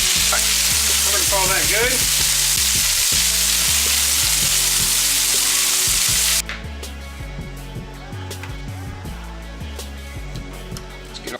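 Chicken fries in a pan with a loud, close, broadband sizzle that drops off sharply partway through when the heat is cut, leaving a quieter hiss. A person speaks briefly.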